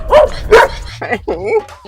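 A dog barks several times in quick succession, close and loud, with a whimpering, yipping edge.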